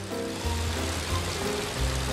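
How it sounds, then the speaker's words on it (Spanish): Cartoon rain falling during a picnic scene, a steady broadband wash of patter and hiss that continues evenly throughout with no voices. "¡Oh, no! ¡Está lloviendo!"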